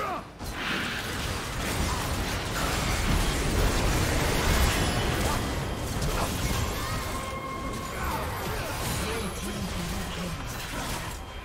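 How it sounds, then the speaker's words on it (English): A turret crumbling in a League of Legends match: a sustained loud, dense rumbling crash with grinding, debris-like texture lasting several seconds, with no voices. "Red team's turret has been destroyed."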